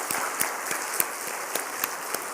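Applause from a church congregation at a Friday evening worship service, a steady wash of many hands clapping with scattered sharper claps, moderately distant and without talk.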